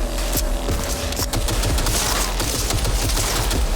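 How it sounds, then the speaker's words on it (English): Dense, loud shotgun fire in Cyberpunk 2077, rapid overlapping blasts filling the whole stretch with little pause, close and harsh with a low rumbling undertone. "I guess I'm shooting with a shotgun"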